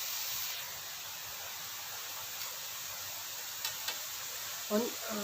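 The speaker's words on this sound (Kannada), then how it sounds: "ಇದು ಫ್ರೈ ಆಗಲಿ." Masala frying in a pan for a mackerel curry, a steady broad sizzle and hiss running throughout at moderate level, with a couple of brief clicks and a short stir or scrape near the end.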